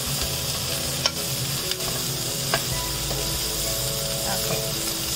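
A pan of yellow Thai curry is stirred over steady frying sizzle, with a few soft scrapes of the utensil against the pan across a few seconds.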